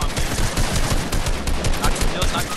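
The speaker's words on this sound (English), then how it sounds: "Why you start shooting at me, though?" Rapid, loud gunfire from the video game Fortnite, a dense, continuous barrage of overlapping shots lasting a couple of seconds.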